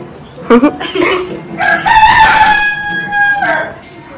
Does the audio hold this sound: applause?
no